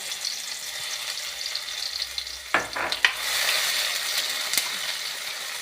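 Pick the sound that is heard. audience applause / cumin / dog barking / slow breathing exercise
cumin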